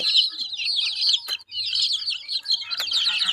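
Chickens cluck and peep in a continuous high, chattering stream that is close and fairly loud. Two short knocks break it up, and no one talks.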